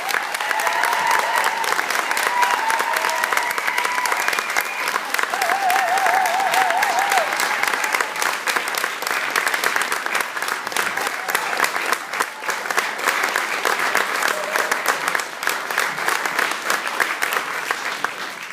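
Warm audience applause welcoming a band at a live gig, sustained dense clapping with some whistles and crowd noise running steadily throughout, close and loud.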